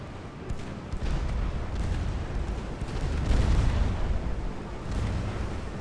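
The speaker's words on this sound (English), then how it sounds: "The gunfire is definitely piling on now." Naval gunfire from early dreadnought-era battleships and destroyers in the game Ultimate Admiral: Dreadnoughts rolls on as a continuous, loud wall of deep booms and rumbling blasts with overlapping distant cannon reports.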